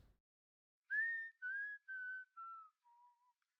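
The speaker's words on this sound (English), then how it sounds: "I'll start with the whistling" A single person whistles a short descending melody of five held notes, clean and close, recorded as a rough outtake for an indie folk song mix, with no other sound around it.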